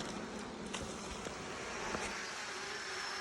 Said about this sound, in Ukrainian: Тут уже чимало бджілок зараз буде